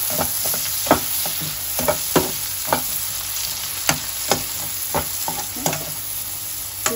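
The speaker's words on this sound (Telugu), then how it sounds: "ఏవైతే ఆనియన్స్ ఉన్నాయో అవి వేసేసుకోవాలి. ఇవి బాగా వేగాలండి." Onions fry steadily in hot oil for an egg dish, a continuous close sizzle broken by a dozen sharp scrapes and taps of a spoon stirring the pan, with no voices.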